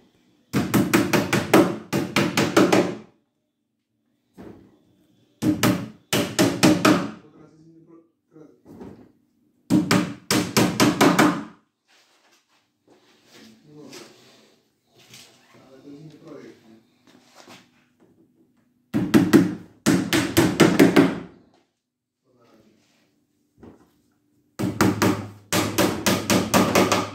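Pins are hammered into the holes of a pine shelving unit in several bursts of rapid, sharp blows, separated by quiet pauses with faint handling noise.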